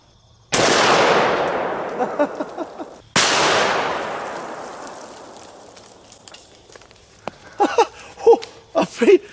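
Two booming 500 Magnum pistol shots fired with 500-grain jacketed flat-nose rounds at a stone ball, each a sharp loud blast with a long echoing decay, followed by talk near the end.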